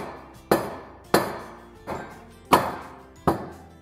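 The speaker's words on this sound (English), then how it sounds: "I'm gonna get a hammer and tap on that assembly a little bit." Five sharp hammer taps on a metal roller assembly from a mini skid steer, evenly spaced and fairly close, each with a short ringing decay.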